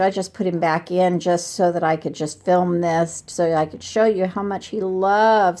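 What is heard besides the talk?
None of the usual background noises is heard.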